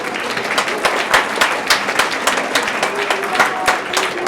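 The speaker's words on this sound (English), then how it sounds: "big round of applause for Bob" An audience claps steadily at a school Olympian rally, a dense wash of many hands that runs on evenly and loudly throughout with no voices over it.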